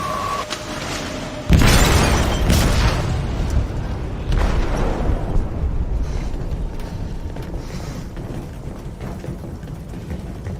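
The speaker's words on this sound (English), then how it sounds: "They detonated an explosive in the hold." A loud blast from an explosive detonated in a ship's hold in a video game, a sharp burst at about 1.5 seconds followed by a shattering crash and a sustained rumbling roar that slowly fades.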